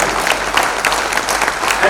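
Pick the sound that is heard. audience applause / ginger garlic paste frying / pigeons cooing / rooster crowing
audience applause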